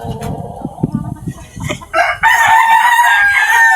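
An Asil rooster lets out a loud, close crow after a stretch of softer clucking and scratching, the call held for well over a second.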